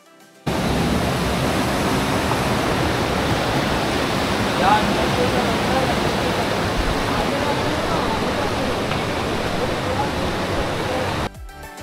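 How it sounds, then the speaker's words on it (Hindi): A loud, constant rush of a fast-flowing river near Kalu Waterfall fills the scene, a steady roar that starts abruptly and continues without pause. "नदी के तेज बहाव की आवाज भी सुनाई दे रही थी"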